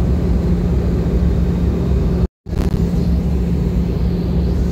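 Steady, loud cabin drone inside a passenger airplane in flight over the Mount Apo area toward Davao City, a constant low engine rumble broken only by a brief silent cut.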